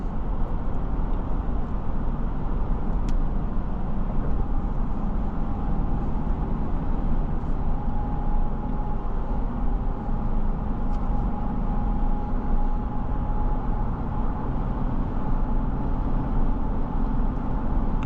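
Steady broadband wind and road rush inside a 2024 Toyota Land Cruiser on the move, a constant low roar with a faint engine hum, with no talking.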